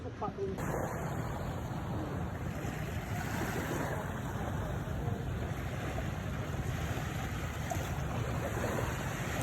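Seaside waves and wind at a fishing tournament shoreline in Roxas City, Capiz: steady broadband rushing surf with wind buffeting the microphone, continuous throughout, with faint voices in the background.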